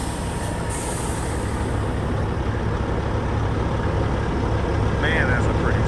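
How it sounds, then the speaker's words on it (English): Air suspension on a custom Peterbilt truck dumps its air, giving a loud, steady rushing hiss that runs the whole time over the truck's low engine rumble, close by. "Let him get it all squared up and dump the air on it so we can see it."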